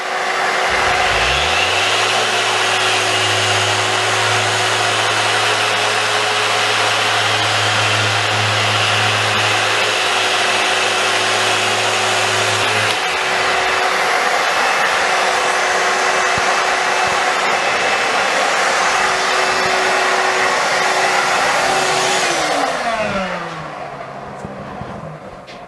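A random orbital sander switched to its finer, smoother mode runs steadily and loud for over twenty seconds, holding a constant whine with a low hum that cuts out partway, then spins down at the end; no talking.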